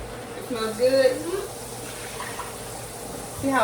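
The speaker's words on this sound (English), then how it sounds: "I'll rinse my rice until the water runs clear." Tap water runs as rice is rinsed in a bowl, a steady splashing flow with swirling and sloshing, close by, while a person talks over it.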